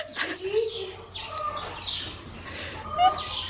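A chicken clucks and squawks in a string of short calls at close range, with a person's voice mixed in.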